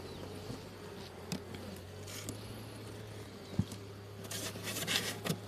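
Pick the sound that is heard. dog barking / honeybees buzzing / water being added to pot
honeybees buzzing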